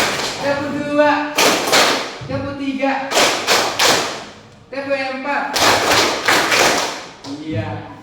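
Rhythmic group clapping in a counting ice-breaker game, in bursts of sharp claps alternating with a voice calling out numbers between them.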